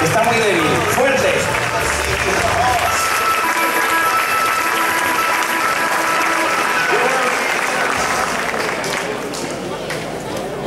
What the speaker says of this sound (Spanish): Vamos a darles un fuerte aplauso, de verdad, que nos oigan desde China.